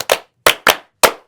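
Four sharp hand claps in a loose rhythm, close and loud, with brief silences between them, part of a Korean crowd cheering chant.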